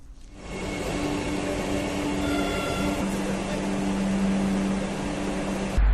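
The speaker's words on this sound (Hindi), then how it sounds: "दूसरे ट्रायल के क्रम में वंदे भारत एक्सप्रेस ट्रेन रामगढ़ जिले के बरकाकाना जंक्शन से भी गुजरी" A Vande Bharat Express trial run rolls through Barkakana Junction in Ramgarh district, a steady loud rumble of wheels and carriages with a sustained hum, building slightly and ending in a sharp thump.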